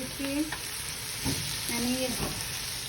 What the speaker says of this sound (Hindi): ये अभी मज़ीद फ्राई करेंगे हम। इसका कलर चिकन का चेंज हो ले तब तक हम इसे भूनेंगे।